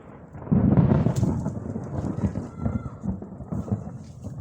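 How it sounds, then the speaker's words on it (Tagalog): Thunder rolls in as a storm approaches an outdoor spot where a bird trap is being made, a deep rumble swelling and then continuing in uneven crackling waves, fairly close and loud. "baka tayo tamaan ng kidlat"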